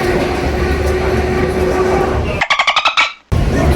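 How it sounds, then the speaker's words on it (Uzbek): An old suburban electric train, a local elektrichka, running with loud steady rumble, then a quick burst of rhythmic clattering wheel beats and a brief drop before the noise resumes. "Yujniga borgandan keyin biz bu safar eskicha elektrichkaga chiqib ketdik."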